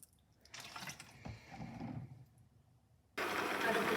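Water poured from a vessel into a cooking pot of radish for a curry, a short splashing pour followed by a steadier louder rush near the end, close and fairly quiet.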